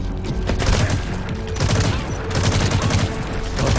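Rapid automatic gunfire in Metal Gear Solid V: The Phantom Pain, dense repeated bursts of shots in quick succession that keep a steady, loud rattle throughout.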